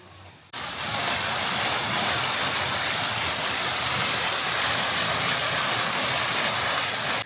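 Steady rushing water from a waterfall beside the limestone Queen's Staircase in the Bahamas forms a loud, continuous broadband roar after a quieter first half second.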